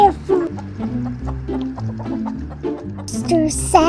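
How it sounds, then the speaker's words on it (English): Farm chickens cluck steadily and close by while they eat, giving a repeated rhythmic pattern of short clucks with a few brighter squawks near the end. "Chickens are eating"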